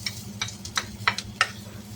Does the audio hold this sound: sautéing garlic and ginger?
yes